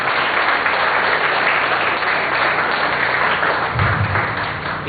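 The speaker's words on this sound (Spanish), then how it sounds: "Den un aplauso a Jesús." Church congregation applauding during a congress worship service, a dense, steady wash of clapping filling the room, loud and continuous throughout with no talk over it.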